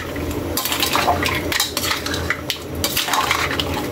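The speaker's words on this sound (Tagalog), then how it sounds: "Mikos lang natin." A utensil stirs and scrapes through pancit canton in a pan, a close, busy clatter of metal on metal with wet tossing sounds, and no talk.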